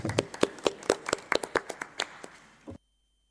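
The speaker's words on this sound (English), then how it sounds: "Let's give applause to Evariste." Audience applause for a speaker at an East African trade and postal logistics conference, heard as sparse, distinct hand claps in a steady rhythm for about three seconds before cutting off abruptly.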